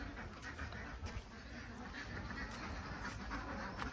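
Egg-laying ducks quack in brief, repeated bursts near their pen beside a pond, over a steady outdoor background hiss, with a faint voice now and then.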